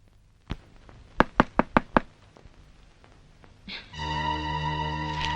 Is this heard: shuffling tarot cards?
no